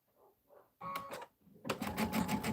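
A home sewing machine stitching quilting fabric for a scrappy pillow back: short mechanical bursts at first, then a louder, steady rapid run of stitching close by.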